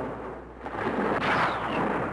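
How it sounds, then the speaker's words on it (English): Bomb explosion on the afterdeck of a warship during a 1942 Japanese air attack in wartime newsreel footage, a deep rumbling blast that swells after a quieter start and rolls on without voices. "Suddenly, an explosion on the afterdeck."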